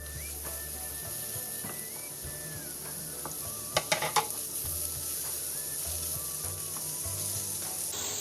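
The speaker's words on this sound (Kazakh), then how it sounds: "Эми бул сковородкага кайра эле майды куюп, пиязды куруп алабыз." Onions frying in oil in a skillet give a steady, moderate sizzle throughout, with a few brief clinks of utensil against the pan near the middle and no talking.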